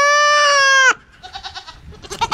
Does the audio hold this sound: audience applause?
no